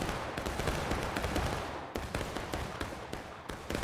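Musket volleys fired by a line of infantry in a Burnside's Bridge battle game, sharp cracks in ragged clusters over a continuous rolling din of distant gunfire.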